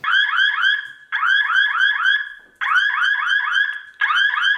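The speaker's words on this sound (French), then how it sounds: "On peut aussi activer une alarme qui est assez puissante." A Simcam 1S surveillance camera sounds its siren alarm: loud, close, rapidly warbling electronic bursts in four repeated blocks of one to one and a half seconds each, separated by brief gaps, with nothing else heard.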